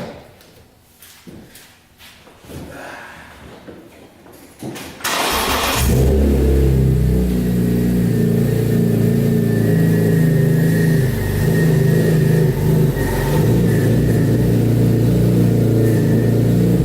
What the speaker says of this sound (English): Let me start the car real quick and turn my wheels to make sure it does work.